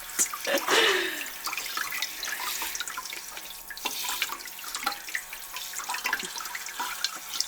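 Cold water runs steadily from a tap into a sink, a continuous splashing hiss with a few louder gurgles and drips along the way.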